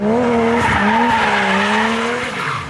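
Toyota MR2 drifting, its tires squealing in a loud, sustained wavering screech with the engine roaring underneath, close and unbroken throughout.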